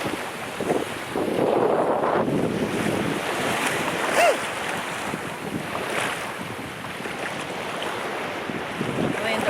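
Strong wind blows at a beach, producing a loud, steady roar and buffeting against the microphone. A faint wash of surf sits underneath, and no voices are heard.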